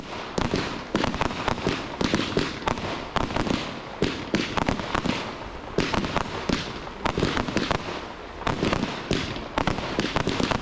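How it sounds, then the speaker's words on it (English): Solaris firework cakes from Evolution fire off at a public fireworks display in Liverpool, a dense rapid stream of loud cracking bursts and pops lasting throughout. "This is now 3 Solaris cakes from Evolution firing off."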